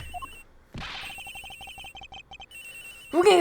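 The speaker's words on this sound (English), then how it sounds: "Ringing is coming from somewhere in here, sir." A telephone rings in the Ace Attorney Investigations video game, a steady run of short repeated electronic trills on a plane, fairly clear and loud, followed by a brief louder burst of game sound at the end.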